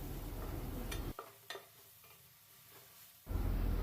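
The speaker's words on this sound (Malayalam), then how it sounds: "സവാള ഇവിടെ വഴന്ന് വരുന്നുണ്ട്." Onions sauté in a pan for a vermicelli and chicken dish. A loud, close sizzle suddenly drops to quiet stirring with a few scraping taps, then the full sizzle returns.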